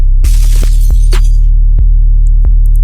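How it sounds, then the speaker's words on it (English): A crash effect from "We Gonna Be Okay" hits inside a hip-hop beat, a bright shattering burst over a steady deep bass line, followed by a few sharp percussive clicks and faint hi-hat ticks. "Added the "We Gonna Be Okay" crash sound effect."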